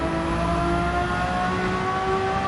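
A race car in Gran Turismo 7 accelerates hard, its engine a loud, steady, high-pitched drone rising through the revs as the power goes down, heard alone with no talking.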